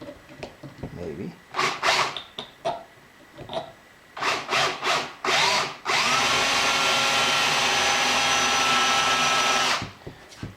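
A power drill bores a hole, starting with several short whirring bursts as the bit bites in, then running in one loud, sustained grind for about four seconds before stopping, heard close up.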